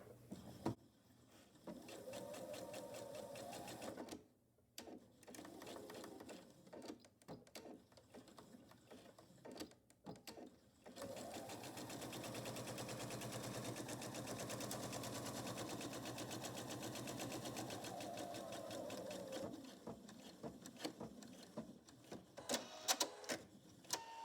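A sewing machine stitches an apron panel through leader fabric in several runs, its fast mechanical whir starting and stopping with brief pauses and one long steady burst in the middle, close and loud, with no talking.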